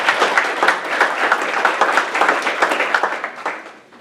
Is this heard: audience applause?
yes